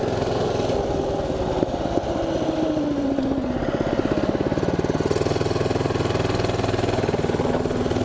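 A Mega Moto mini bike engine drones loudly and steadily while being ridden, with a rapid mechanical chatter and shifting pitch as the rider speeds along close to the ground, with no talking over it.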